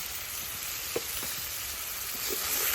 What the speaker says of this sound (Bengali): মশলাটারে ভালোভাবে কষে মশলাটা খুব ভালোভাবে কষে নিয়েছি